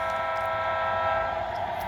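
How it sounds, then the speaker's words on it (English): The Southern Pacific Sunset Limited passenger train sounds a steady, sustained horn chord that holds for the full stretch, loud and continuous, with no speech. "Today we're running into the Southern Pacific Sunset Limited train number, this would be number 2."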